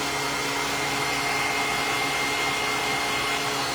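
A blow dryer drying acrylic paint runs as a steady, loud whooshing motor-and-air drone, constant and uninterrupted throughout, with no talking.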